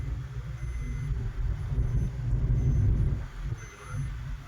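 A car travels the road from Kolad toward Kashid, heard from inside as a steady, moderate low engine and tyre rumble that swells slightly and continues without talk.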